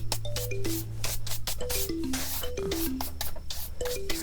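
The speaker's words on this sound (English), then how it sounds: "Trying to clean up all the crayon dust." Dry rubbing and brushing as metallic crayon dust is swept off mosaic artwork, a steady scratchy scrub running throughout, with a descending chime-like melody playing in the background.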